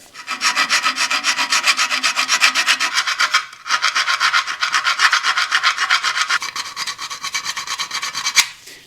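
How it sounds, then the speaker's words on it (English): A file rasps back and forth in quick, steady strokes flattening metal, harsh and close, with a brief pause midway before the scraping resumes. "the old-fashioned way of filing it flat to get a nice stable surface"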